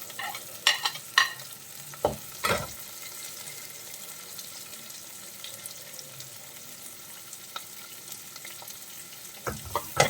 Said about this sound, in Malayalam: വെളുത്തുള്ളി ഒന്ന് വഴണ്ട് വന്നാൽ ഉടനെ തന്നെ നമുക്ക് സവാള ചേർത്ത് കൊടുക്കാം.